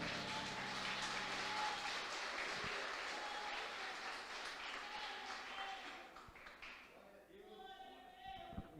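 A church congregation applauds, a broad wash of clapping that gradually thins and fades, with a voice speaking over it toward the end.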